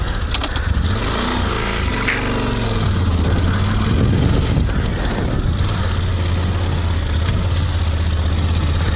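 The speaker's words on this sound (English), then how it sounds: "Wow, I can feel the engine." Yamaha Super Tenere 1200 motorcycle engine running during a test ride, a deep throbbing drone that rises and falls in pitch, then settles into a steady low rumble, loud and close.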